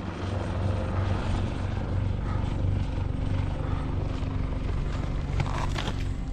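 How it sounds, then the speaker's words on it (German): Rescue helicopter flying near the Matterhorn on the Hörnli ridge, a steady loud rotor thump and engine roar filling the whole stretch with no talk over it. "Hubschrauber. Das ist eine Rettungshelle."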